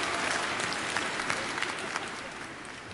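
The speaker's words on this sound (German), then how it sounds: "Mit dem Applaus" Warm audience applause fills an Advent sing-along concert hall, a dense continuous clatter of many hands at steady loudness with faint individual claps standing out.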